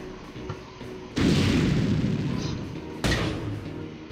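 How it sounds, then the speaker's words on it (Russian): Two heavy grenade blasts in the Chrome Specnaz shooter game, each a sudden loud boom with a long rumbling decay, the second following about two seconds after the first. "Давайте гранату кинем."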